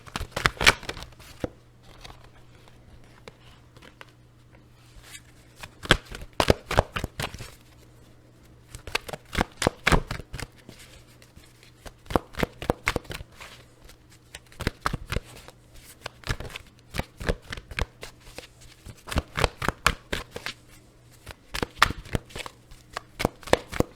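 Tarot cards shuffle during a reading in crisp riffling bursts of rapid slaps, repeated in several runs with brief quiet gaps in between, close and fairly soft.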